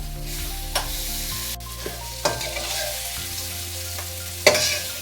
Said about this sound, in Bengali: চিংড়ি মাছগুলো অল্প একটু করে ভেজে নেব